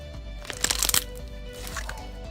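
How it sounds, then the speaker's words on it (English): Slime with foam beads being swirled, producing a close burst of crisp crunching and crackling that peaks for about half a second before fading into softer squishing. "Like when I swirl it, it just crunches."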